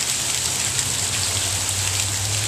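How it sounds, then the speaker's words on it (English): Rain pours down beneath a bridge at a fishing spot, giving a dense, constant hiss with a steady low hum underneath and no talking. "Oh, it's raining."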